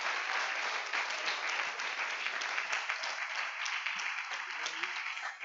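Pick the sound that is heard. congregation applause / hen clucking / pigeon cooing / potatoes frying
congregation applause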